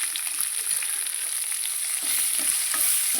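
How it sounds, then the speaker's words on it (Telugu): Onions fry steadily in a pan with salt and ginger-garlic paste. A dense, close sizzle runs throughout, with faint stirring scrapes and no voices. "ఇవి ఫ్రై అవుతున్నాయి."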